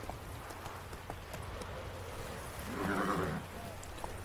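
A horse in The Witcher 3 plods with soft clip-clopping hooves and gives a brief whinny midway, faint under a steady game ambience.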